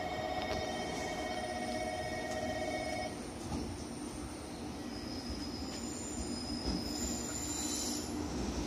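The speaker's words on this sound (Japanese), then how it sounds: "1番乗り場到着の列車です。" A JR Kyushu 813 series local train rumbles steadily into a platform at Fukkodai-mae station with squealing wheels, a tone sounding at first, no voices heard.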